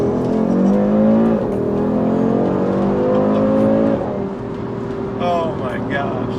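A 2022 Audi RS3 accelerates hard with a rising engine note that drops at each quick gear shift, then keeps pulling steadily from inside the cabin. People talk over the engine.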